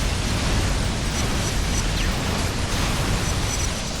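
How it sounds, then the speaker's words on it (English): Repeated grenade blasts in the inFamous video game form a dense, loud, continuous wash of rumbling explosive noise with no clear gaps between bursts. "I'm just spamming grenades"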